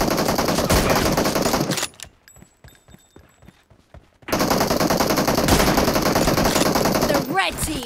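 Rapid bursts of automatic gunfire from the PUBG Mobile battle royale game crackle loudly and densely, broken by a short lull of scattered single shots and mechanical clicks before the heavy firing resumes.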